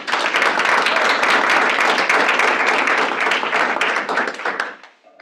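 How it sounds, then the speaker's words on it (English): An audience at a stakeholder meeting applauds Stacy, the director of operations, with steady, dense clapping from many hands that stays loud for about four and a half seconds, then fades out quickly. "let's give Stacy a round of applause"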